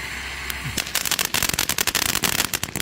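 Magnus consumer fireworks firing in a rapid barrage of sharp crackling pops and bursts, loud and dense, building into a continuous crackle after a brief quieter start.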